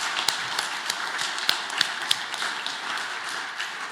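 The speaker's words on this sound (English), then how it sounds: "That deserves a round of applause." Audience applause at an awards ceremony, a steady wash of hand claps with a few sharper nearby claps standing out, sustained and fairly loud throughout with no talking.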